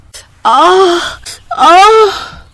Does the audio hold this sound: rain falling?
no